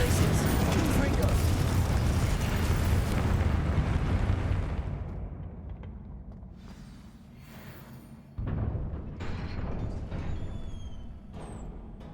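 A Confringo fire spell blasts in the video game Hogwarts Legacy, a loud, broad rumbling explosion that fades over several seconds. A second, smaller burst follows with lighter crackling.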